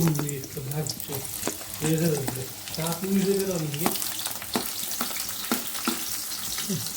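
Chopped onions sizzle and fry in a pan while Maggi noodles are being cooked, with steady crackling, stirring scrapes and clinks, and a voice speaking over the cooking throughout.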